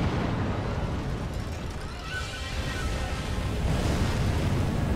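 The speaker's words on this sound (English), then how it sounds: "he's going to throw fire" Enemy hurling fire in Sekiro, a steady roaring, crackling burst that holds loud and dense for several seconds without letup, with rumbling low end throughout.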